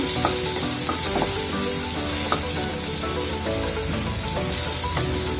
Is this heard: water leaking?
no